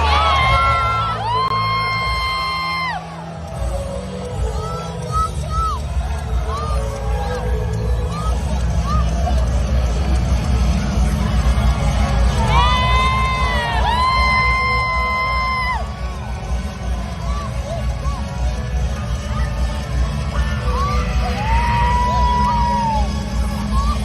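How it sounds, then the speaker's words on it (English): At a WWE wrestling event, a child's high-pitched shrieks and cheers for a wrestler ring out over a loud arena crowd roaring and whooping, several bursts of yelling rising above the continuous babble. "So that is Abby cheering on Becky from the night before"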